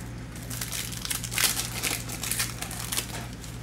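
A 2019 Panini Optic NFL hobby pack of trading cards is torn open up close, a quick run of crinkling and ripping foil wrapper sounds over a low steady hum.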